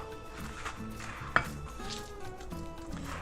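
A knife cuts through a red onion on a board, one sharp distinct chop standing out among faint kitchen clatter and low background music.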